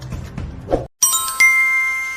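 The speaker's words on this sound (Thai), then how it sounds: "อย่าลืมกดกระดิ่งติ๊งๆ" A bell-style ding notification sound effect, a bright two-tone chime that rings out after a short silence and lingers with a sustained shimmer.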